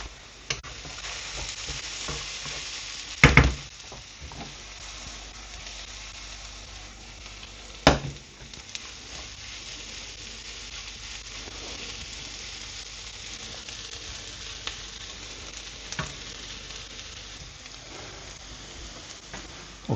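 Onions for a mushroom sauce fry and get stirred in a pan, a constant close sizzle broken by a couple of sharp spoon clanks and scraping stirs.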